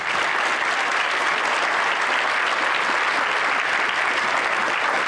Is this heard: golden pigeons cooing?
no